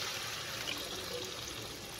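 A glass of water poured over chicken breasts in a cooking pan gives a soft continuous liquid rush, fairly quiet and even for the whole moment, with no talking.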